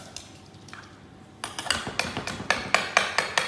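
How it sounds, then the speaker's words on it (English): A spatula presses moussaka layers down into a dish, giving a string of roughly ten sharp clinks and taps against the dish. They come in an irregular rhythm, close and fairly loud, with a quiet stretch before them. "Use the spatula, squash it down."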